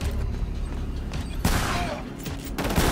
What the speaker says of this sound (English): I got myself a shotgun.